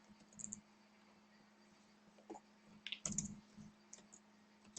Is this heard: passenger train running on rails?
no